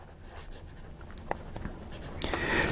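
An Eversharp fountain pen nib scratches across paper in short, close strokes, soft at first and growing louder and rougher toward the end, with no voices.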